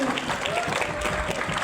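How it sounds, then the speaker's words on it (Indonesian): Short burst of audience clapping at an Islamic religious lecture, a dense steady patter of hands with voices mixed in underneath throughout. "Tepuk tangan buat diri."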